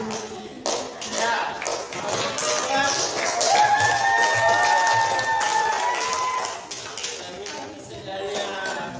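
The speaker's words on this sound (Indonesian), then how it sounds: "Oke, tepuk tangan." A classroom group claps together during a school teaching session: a sustained burst of many hands clapping that swells and then fades, with voices heard around it.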